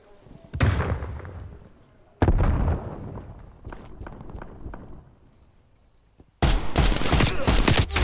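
Gunfire in the video game Call of Duty Black Ops Cold War during a Hardpoint match: loud, close bursts of rapid shots and booming blasts that ring out between pauses, ending in a sustained heavy volley.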